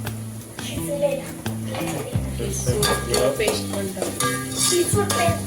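Onion, green chillies, grated garlic and grated ginger stirred in a pan for prawn biryani, with repeated spoon scrapes and clinks against the metal over a steady low sizzle, close and fairly loud.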